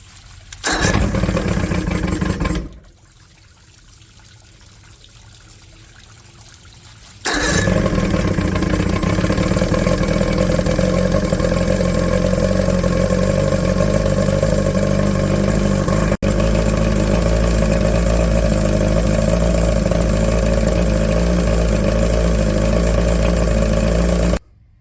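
A rebuilt Johnson 115 HP outboard motor with a new piston and rings cranks and catches, runs loud for a couple of seconds, drops off briefly, then restarts and runs steadily at a loud, close, rough idle for a long stretch.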